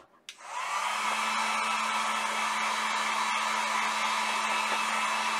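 A heat gun starts with a click and rises into a loud, steady blowing whine with a constant hum, used to dry stenciled paint on a bunny decoration.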